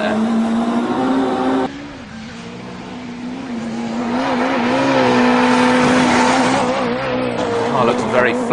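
Loud race-engine drone from a Promotive FWD R1 Mini lapping a circuit, revs dipping after a gearshift then building and wavering through corners, with someone talking over the engine.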